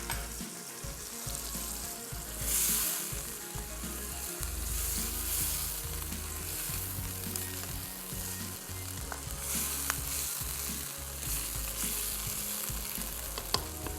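Masala for beef nally pulao fries in a pot, giving a continuous close sizzle with scraping and stirring noises from a spoon running through it, all without speech.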